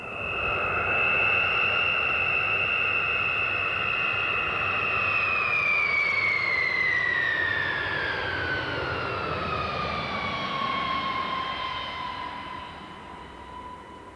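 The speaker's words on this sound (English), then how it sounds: "let you hear the sound of this massive plane" A massive military aircraft passes overhead during the 1999 NATO air operation over Kosovo and Serbia. Its loud, steady jet roar carries a whine that slides downward as it goes by, then slowly fades toward the end. No one speaks.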